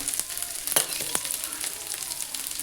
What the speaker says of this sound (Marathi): चला आपलं तेल गरम झालेलं आहे. आपण त्यात तेजपान टाकून घेऊ.